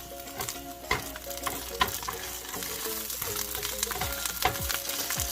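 Chorizo frying in a pan with cooked onions for Mexican eggs, a loud crackling sizzle with frequent spatula scrapes and clinks against the pan, busy and close.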